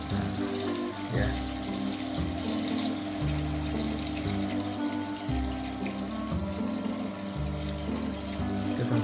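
Water pours steadily through an overflow box into an aquarium sump filter, a continuous close rush and splash with a low, rhythmically pulsing hum underneath.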